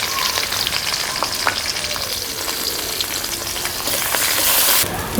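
Onions and green chillies hit hot oil in a pan after cumin tempering, giving a steady loud sizzle with light stirring scrapes and a brighter hiss flaring near the end; nobody speaks.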